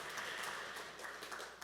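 An audience at a Korean Senior Citizens' Day ceremony applauds after the President's congratulatory address, a faint, dense patter of many hands clapping evenly for a short stretch, distant and without voices.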